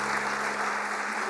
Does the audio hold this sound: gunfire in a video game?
no